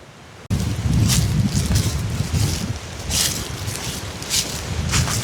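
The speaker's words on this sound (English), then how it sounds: "Sunny weather, warm wind, out in the forest." Warm wind gusts through a sunny forest, a rough low rumble buffeting the microphone steadily after a brief quiet start, with brighter rushing swells rising and falling throughout.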